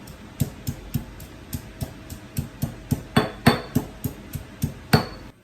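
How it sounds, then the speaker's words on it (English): Garlic crushed for teriyaki sauce in a steady run of about sixteen sharp, evenly spaced pounding knocks, close and fairly loud, with no talk. "now I'm gonna put the garlic. Grind them."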